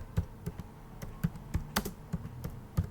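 Crisp, close keystrokes on a computer keyboard tap out an uneven rhythm of about a dozen presses, alone with no talking.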